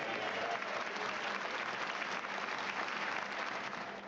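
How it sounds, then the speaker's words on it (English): Sustained applause from MPs in the House of Commons chamber, a dense crowd clapping continuously at moderate distance for several seconds, no voices distinct above it. "Applause is rare in the Commons, standing ovations even more so."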